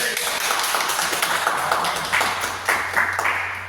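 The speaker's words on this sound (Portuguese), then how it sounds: "E as palmas louvam ao Senhor, amém?" An evangelical church congregation claps in praise, producing a dense, continuous patter of many hands that holds steady throughout, with a voice faintly present beneath it.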